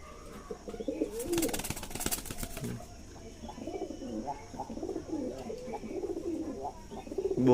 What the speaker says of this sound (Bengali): এগুলো এমনি লোকাল পায়রা